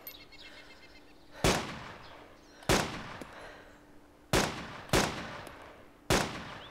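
Sniper rifle shots in the video game DayZ, five sharp loud cracks spaced irregularly, each with a short decaying tail, over a faint steady background hum.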